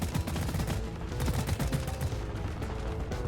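Rapid automatic gunfire rattles in Deep Rock Galactic as appendages are shot, a dense continuous burst of close, loud shots lasting a few seconds.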